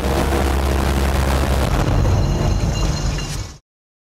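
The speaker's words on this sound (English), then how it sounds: "including excellent footage of the Type 1130's gun firing" Type 1130 eleven-barrel close-in weapon system on a Chinese warship fires a continuous, loud, roaring burst for about three and a half seconds, then cuts off abruptly.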